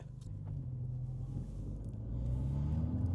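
Steady engine rumble from a car with an MP Rezeau preparation cruising at 60 km/h, a continuous low drone that swells slightly louder toward the end, with no talk over it.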